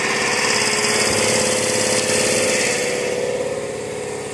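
A Toyota Land Cruiser V8 engine idling steadily up close, a loud, even mechanical drone with a constant rumble that eases slightly toward the end.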